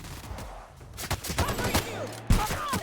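Rapid gunfire in The Outer Worlds video game, a cluster of sharp, close shots. The shots come in uneven bursts, ending with a louder blast near the end.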